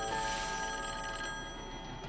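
An unanswered telephone in a horror film rings on and on, a faint, steady electronic bell tone with nothing else over it.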